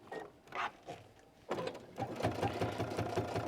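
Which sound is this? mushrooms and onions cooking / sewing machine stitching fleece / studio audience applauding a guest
sewing machine stitching fleece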